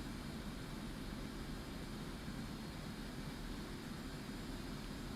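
An F/A-18C Hornet jet engine at dry thrust with no afterburner, in the DCS World flight game, a steady, dense roar and rushing hiss that stays even throughout with no speech.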